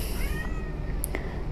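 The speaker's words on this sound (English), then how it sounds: "Sorry about the kitty." A cat gives a single short meow indoors, fairly close and clear against a low background hum, with no one talking.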